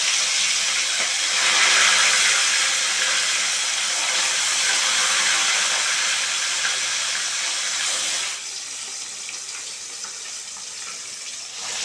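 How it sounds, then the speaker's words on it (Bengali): Pieces of rohu fish fry in hot mustard oil in a kadai, a loud, continuous, close hiss that dips slightly in level for the last few seconds. "কড়াইতে দিয়ে দিচ্ছি পরিমাণ মতো সর্ষের তেল তেলটা খুব ভালোভাবে গরম হয়ে যাক এবার মাছগুলো আমি ভালো করে ভেজে নেব"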